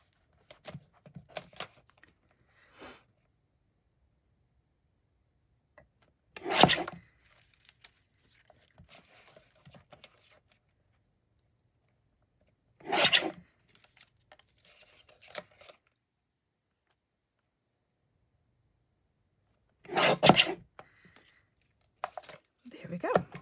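Junk mail paper scraps are trimmed with a few sharp, isolated snips spaced several seconds apart, close and fairly crisp, with quiet rustling and soft murmuring in between.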